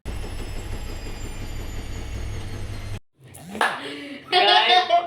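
A washing machine runs with a steady, droning hum and whir for about three seconds. The sound cuts off abruptly, and people then talk and laugh.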